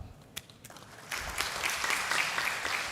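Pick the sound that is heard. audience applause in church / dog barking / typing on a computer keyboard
audience applause in church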